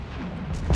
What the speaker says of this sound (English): Little final explosions